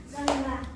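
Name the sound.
children clapping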